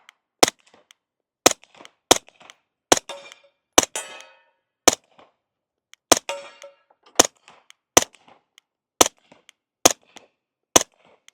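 An Accuracy X AXE-34 rifle fires about a dozen loud, sharp subsonic gunshots at irregular intervals, each a crisp crack with short echoes, separated by quiet gaps.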